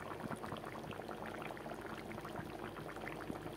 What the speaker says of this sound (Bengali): বন্ধুরা দেখো, আমার মাছের ঝোলটা উতরান উঠে গেল।